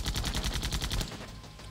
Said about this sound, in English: Click the left mouse button to fire your primary guns.